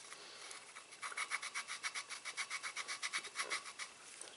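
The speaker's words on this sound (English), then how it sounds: "we kind of rotate it while pushing it in. So it just rubs into the seat like that" An engine valve from a Toyota 1.6/1.8L engine in a '96 Geo Prizm is lapped back and forth against its seat, making a quick, even, gritty rubbing rhythm of about twenty close strokes without speech.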